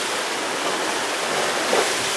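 Ocean waves rushing behind a sailboat at sea on a Canaries to Cape Verde crossing, a continuous broad wash of water noise with no voices.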